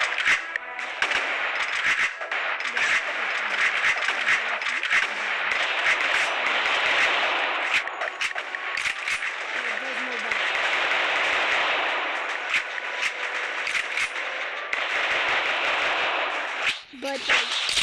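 Rapid gunfire from the War Simulator video game crackles in dense bursts throughout, with sharp repeated shots over a steady noisy wash of battle sound.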